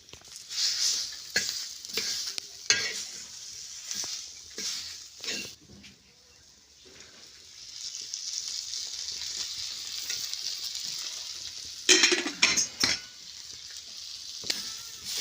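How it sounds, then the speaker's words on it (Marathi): Chopped onions stir-fry in a pan for a Maharashtrian black sesame curry, giving a steady close sizzle broken by repeated scraping stirs and a few louder clatters toward the end. "कांदे व्यवस्थित लाल भाजून मस्तपैकी"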